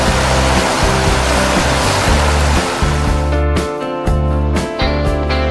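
Binalayan Falls in the Philippines pours in a loud, steady rushing roar of falling water, with a pulsing music bed layered over it.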